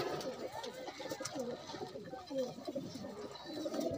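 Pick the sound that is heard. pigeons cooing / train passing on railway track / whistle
pigeons cooing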